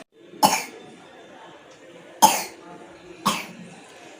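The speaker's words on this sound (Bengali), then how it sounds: "এখনো কাশি কমেনি" Three separate dry coughs from a woman with a cold, each a sharp burst with a short rasp, spaced unevenly over a few seconds, close and alone in a quiet room.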